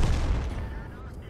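Tank cannon fire from an IS-3 duel in a tank video game: a dense, booming burst at the start with low rumble and rolling echo that decays over the second, under faint voice activity.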